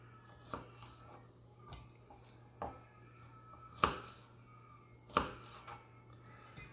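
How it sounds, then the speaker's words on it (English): Garlic cloves being cut into smaller chunks on a board, a handful of sparse, sharp knife taps at irregular intervals over a quiet kitchen hum, with two louder strikes near the end. "Take your garlic cloves and just cut them up into smaller chunks."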